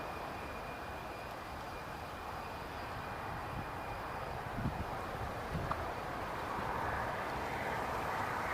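A Eurowings airliner at Newcastle International Airport produces a steady, broad jet-engine roar that swells slightly toward the end, heard from a distance and continuous throughout.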